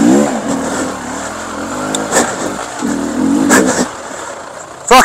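A Beta X enduro motorcycle on woodland trails in Tintern revs hard and close, its engine pitch rising and falling in repeated bursts as the throttle is blipped over rough ground.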